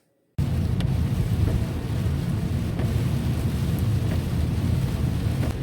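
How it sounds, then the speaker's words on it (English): Steady heavy rain falling at night in Yarmouth, Nova Scotia, a continuous dense wash of drops that starts abruptly and holds at an even, fairly loud level with no voices. "It's raining quite a bit tonight"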